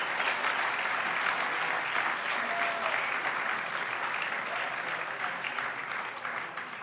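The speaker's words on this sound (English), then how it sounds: "a big round of applause for our class of 2017" An audience at the 2017 Homebuilding Hall of Fame ceremony applauds the class of 2017 with sustained, dense clapping that stays loud throughout and eases slightly toward the end.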